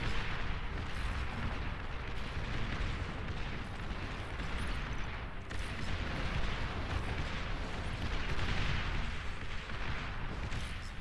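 Rocket defenses fire during a Beyond All Reason real-time strategy battle, a dense continuous roar of booming launches and explosions heard in bursts, loud and unbroken throughout.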